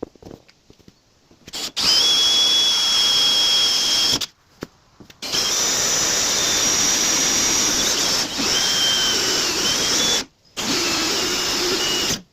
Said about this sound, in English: I'm going to go ahead and drill and tap those 4 holes and we'll get the fan mounted up.